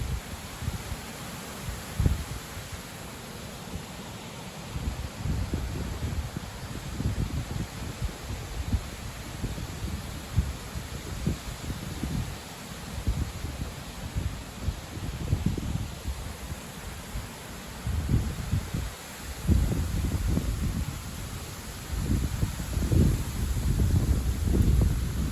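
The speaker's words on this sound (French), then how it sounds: "Et le vent qui fait bien fort." Strong wind gusts buffet the microphone outdoors, a continuous roaring rush that swells and fades in heavy low surges with rustling throughout.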